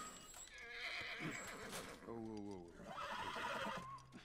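A horse in The Last of Us Remastered video game whinnies loudly in a long, wavering neigh, with hoof clip-clops nearby and a voice speaking over it.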